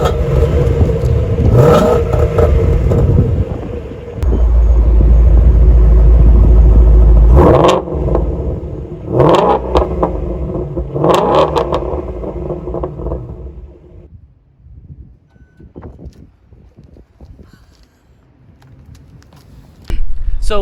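Ford Mustang Shelby GT350 with a 5.2-liter naturally aspirated V8 revving hard, loud deep roar with several sharp throttle blips, then settling to a rumbling idle that fades before a final burst.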